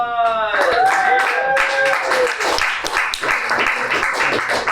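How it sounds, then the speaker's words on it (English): A comedy club audience claps and cheers loudly, dense clapping with whoops and shouts layered over it, close and energetic. "Give yourself a round of applause."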